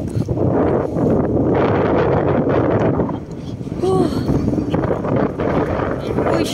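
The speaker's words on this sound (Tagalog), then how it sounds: "ang lakas ng hangin" Strong, cold wind in Tokyo roars and buffets the microphone throughout, a constant rushing noise with voices faintly underneath.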